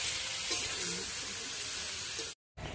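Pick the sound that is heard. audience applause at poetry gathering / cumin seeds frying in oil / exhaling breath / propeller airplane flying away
cumin seeds frying in oil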